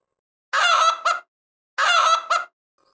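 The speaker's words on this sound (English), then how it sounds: "This is a chicken." Two short, loud fowl calls a second apart, each a harsh honking squawk followed by a brief clipped note, with silence around and between them.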